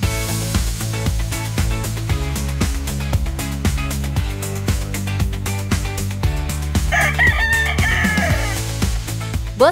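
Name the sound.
rooster crowing in Kintamani, Bali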